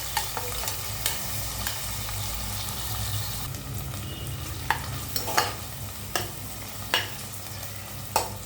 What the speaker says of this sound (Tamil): வெங்காயம் போட்டோம். வெங்காயம் வதங்கட்டும். வெங்காயம் நல்லா வதங்கணும்.